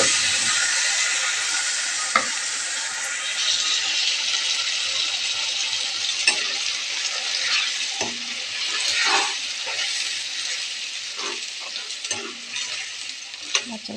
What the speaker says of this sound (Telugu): బచ్చల కూర వేసి ఇలా కొంచెం నూనెలో మగ్గించి